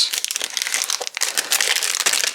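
Paper being cut with a die to form a word for a layered scrapbooking card, heard as a loud, close, continuous crinkling and crunching rustle lasting a couple of seconds.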